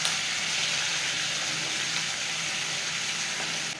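Meat for a kebab halla stew sears in a pan of butter and a little oil, giving a steady, close, loud sizzle that holds evenly throughout with no voices.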